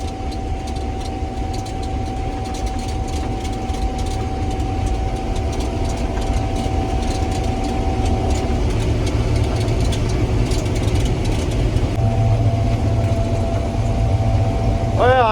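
A Gleaner R72 combine harvester runs steadily while harvesting wheat, its engine drone loud and continuous with a sustained mechanical hum throughout, and a voice speaking now and then over it.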